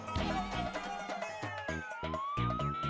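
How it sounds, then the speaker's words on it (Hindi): A police jeep siren wails in a comedy TV scene, its tone sweeping upward over rhythmic background music, moderately loud and continuous. "मतलब ये सायरन की आवाज कहाँ से आई?"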